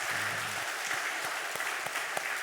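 A church congregation at a Sunday service clapping together, a steady wash of many hands applauding in a large hall, fairly soft, with a brief low hum at the start.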